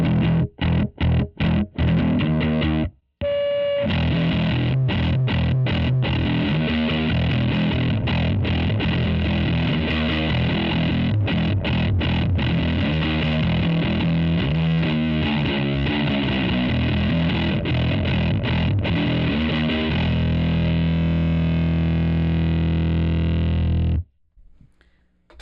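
A heavily fuzzed bass through a Westminster Effects Wycliffe Fuzz V2 and a Big Muff plays a thick, sustained riff with a few sharp stabs at the start, loud and saturated throughout, no voices.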